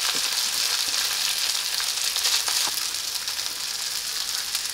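Rice frying in a generous amount of oil in a pan gives a steady, close sizzle with a bright crackling hiss that holds at an even level throughout, with no talk over it.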